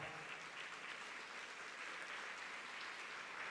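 Steady applause from a church congregation, a dense even wash of clapping that holds at the same loudness throughout.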